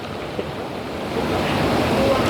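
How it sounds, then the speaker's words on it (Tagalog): Steady rushing of floodwater, a broad continuous roar with wind-like hiss that swells slightly louder toward the end, heard close with no clear voices. "Laki na yung baha, mga kasing"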